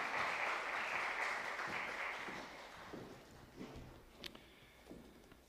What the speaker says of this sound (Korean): 등단하실 때에 박수로 환영하겠습니다.